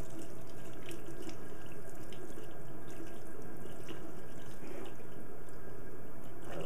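Kitchen tap water pours steadily into a sink as leaves are rinsed, a continuous close splashing stream with occasional droplet spatters and no speech.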